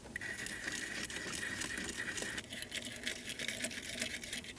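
A terminal brush scrubs the inside of battery terminal clamps on a 2009-2017 Audi Q5, giving a steady, close-up rapid scratching and rasping that continues the whole time with no talk.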